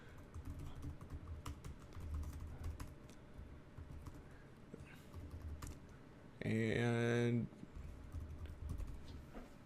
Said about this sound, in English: he can see what I'm typing